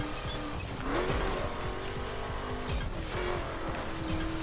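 A car driving in the racing video game The Crew, its engine droning steadily while tires squeal in the foreground through turns, with a few brief skidding swells and no voices.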